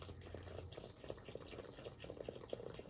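Water poured from a soda bottle into a clear plastic container trickles and splashes faintly, with soft glugging pulses recurring quietly and unevenly for a few seconds.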